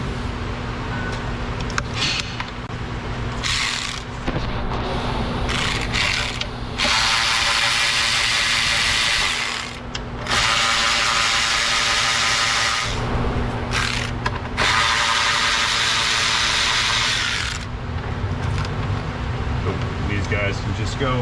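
Ratchet clicking in bursts as a bracket is unbolted from the intake of a worn, high-mileage Ford Escape 3.0 V6, close and busy, with short pauses and light tool clatter between runs of rapid clicks.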